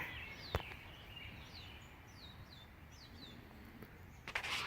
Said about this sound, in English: The tree is full of little birds.